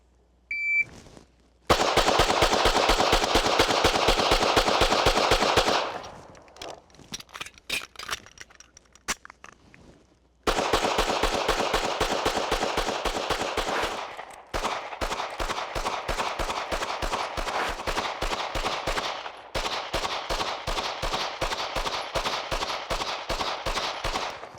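Taurus TX 9 pistol fired during a 1,000 round challenge, loud rapid strings of shots in long bursts, broken by short pauses and a few scattered single shots, with no talking.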